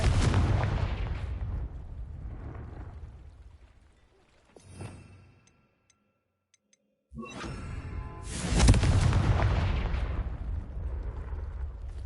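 Confringo fire spell blasting in the Hogwarts Legacy video game: loud booming explosions with rumbling tails, fading to near silence midway before a second heavy burst and a long roaring decay.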